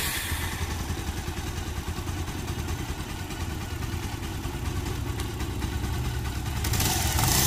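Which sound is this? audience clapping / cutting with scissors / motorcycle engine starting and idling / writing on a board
motorcycle engine starting and idling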